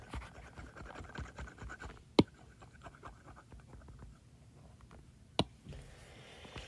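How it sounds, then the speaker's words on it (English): An eraser rubbing over a board during a math lesson gives quiet, repeated scratchy strokes, with two sharp clicks standing out, close and soft, no talking. "I'm actually going to erase this so we don't get confused."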